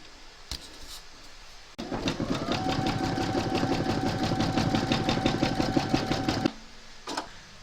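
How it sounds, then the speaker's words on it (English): A home embroidery machine stitches fabric clamped in a hoop, making a steady rapid mechanical chatter of needle strokes for about five seconds between brief clicks, close and moderately loud with no talking. "Pop your hoop into your machine and stitch round number 5"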